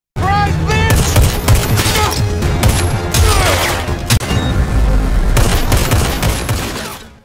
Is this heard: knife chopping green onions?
no